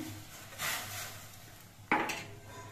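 A spatula scrapes and clatters in a pot as rice flour is stirred into water for batasa pitha, a few scraping bursts against a low background hum.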